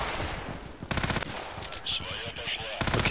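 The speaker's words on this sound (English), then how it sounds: "I really like the machine gun." Machine gun fire in the online shooter Contract Wars, with dense rapid bursts of automatic shots that start, pause and resume, loud and close against a background of game noise.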